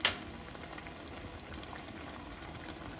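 A pot of carne en salsa verde with nopales at a steady boil, giving off a faint, even bubbling and simmering hiss after a brief click at the start, with no voices.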